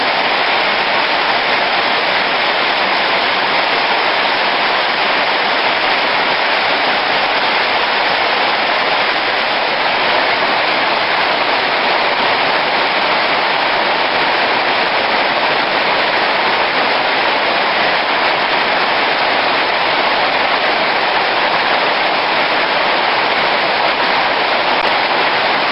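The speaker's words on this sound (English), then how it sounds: "Still raining hard." Hard rain pours steadily during outdoor cooking, with a milkfish frying on an alcohol stove. The downpour is a dense, unbroken hiss that stays loud and even throughout, with no voices.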